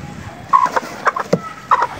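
A white Aseel chicken clucks in short, close, loud bursts, several throaty calls spaced irregularly over a couple of seconds with no talk.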